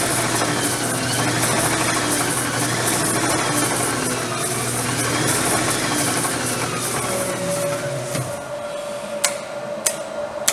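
A Rena XPS 1000 heavy duty inkjet addressing system runs with its belts moving, a loud steady mechanical whir and rattle that winds down near the end, followed by a few sharp clicks.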